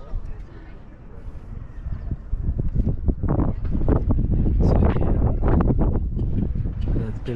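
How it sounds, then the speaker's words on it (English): Strong wind gusting outdoors in Vienna, a loud rushing roar buffeting the microphone that builds and stays heavy, with someone speaking underneath. "oh, quite a extensive wind, so I hope you can still hear me"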